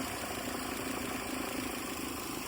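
A Mahindra Thar engine idles steadily at close range, giving a continuous low rumble with a faint hum or whine that fits an abnormal noise from the front of the vehicle. There is no talk.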